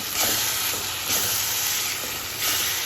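Onion, ginger and chili fry in a pan, making a steady, close sizzling hiss that swells in regular pulses, with no voices.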